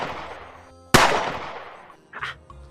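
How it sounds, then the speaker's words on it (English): Gunfire in a Nigerian movie scene: one loud, sharp shot cuts through the background music and rings out with a decaying tail, followed by a smaller burst of noise, with no talk during it. "Shoot him!"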